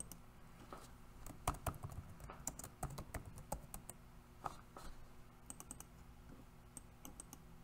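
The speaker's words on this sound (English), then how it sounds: "just type CTU" Typing on a computer keyboard while entering a CTU counter instruction in Connected Components Workbench: a quiet, irregular run of close key clicks in bursts, with no voices.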